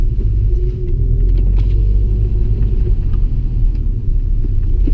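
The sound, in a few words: 2001 Audi S3 8L accelerating from 0 to 100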